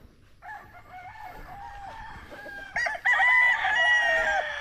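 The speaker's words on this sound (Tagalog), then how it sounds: "Ito yung mga manok natin dito." Chickens cluck nearby, then a rooster crows loudly, several birds calling over one another.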